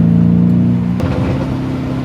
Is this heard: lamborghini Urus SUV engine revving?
yes